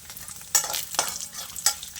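Dried red chillies and garlic frying in a pan for pirandai chutney, giving a steady close sizzle with a few sharp stirring scrapes and no voices.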